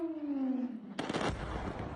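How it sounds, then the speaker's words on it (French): Explosions during US strikes on Caracas at night: a falling whistling tone followed by a sudden sharp blast and crackling rumble, heard at a distance, brief and alone. "une multitude d'explosions dans Caracas et ses environs"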